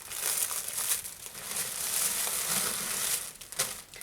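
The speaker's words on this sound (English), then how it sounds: "sorry for all the crinkling" Plastic yarn packaging is crinkled and handled close by, a continuous crackly rustle with a few louder crunches, heard alone with no talk.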